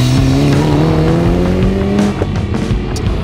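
A Volkswagen Up rally car competes at a tarmac rallysprint, its engine loud and close, revving with a rising, steady tone before easing off, followed by rougher mechanical noise and a few tire-related clicks.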